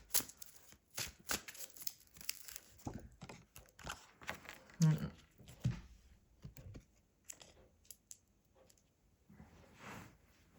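Tarot cards handled and shuffled before one is pulled, close riffling and flicking bursts with clicks scattered irregularly, mixed with speech.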